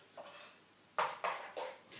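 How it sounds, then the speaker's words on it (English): A spoon stirs chia seeds into liquid in a bowl for a raw vegan raspberry chia pudding, giving a few soft, spaced clinks and scrapes against the dish, quiet and close. "I slowly put the chia seeds into the liquid, stirring all the time"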